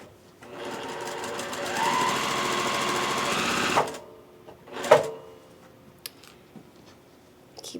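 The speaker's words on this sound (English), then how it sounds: "you're going to start sewing where the triangle tip hangs over" A sewing machine stitches quilt block pieces in a close, steady mechanical whir for about three seconds, then stops, followed by a few soft handling clicks and taps.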